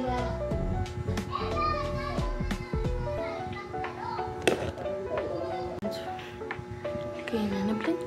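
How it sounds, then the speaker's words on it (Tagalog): Noisy children play nearby indoors, with shrill overlapping voices, squeals and chatter running continuously alongside scattered taps and knocks. "Ingay yung mga bata."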